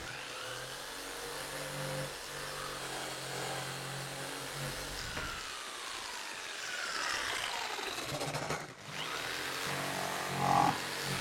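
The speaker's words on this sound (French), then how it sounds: "Je pense qu'à la scie sauteuse ça va aller bien." Jigsaw cutting wooden shelf boards for a bookcase: a continuous buzzing saw whine that shifts in pitch as the blade works through the wood, close by and without talk.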